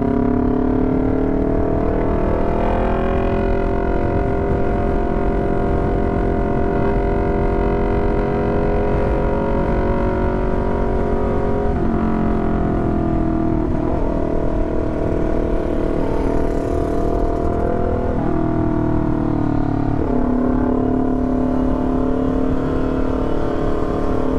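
Steady, loud road noise rides along with a motorcycle at night through busy, crowded Makassar streets on a CBR250RR, with a continuous engine whir and passing vehicles blending into a dense traffic drone.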